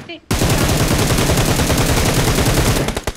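Rapid automatic fire from an M7 rifle in a battle-royale video game, a dense, loud, continuous burst of shots lasting about three seconds after a brief quiet start.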